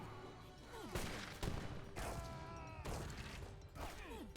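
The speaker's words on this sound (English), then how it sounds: "And we see the 5 organ guns doing great damage here." Five organ guns in Age of Empires 3 open fire in rapid volleys, crackling bursts of multiple shots repeating at close range amid battle clatter, quite loud throughout.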